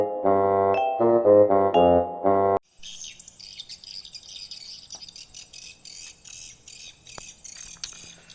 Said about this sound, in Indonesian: Wow, burung walit.